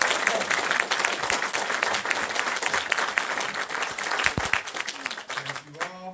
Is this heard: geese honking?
no